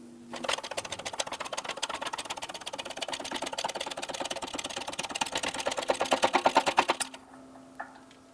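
A press forces a wheel hub bearing into the front knuckle of a 2003-2007 Honda Accord, giving a rapid, steady mechanical clatter of ticks for several seconds, growing a bit louder near the end before stopping abruptly.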